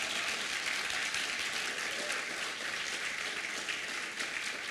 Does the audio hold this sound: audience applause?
yes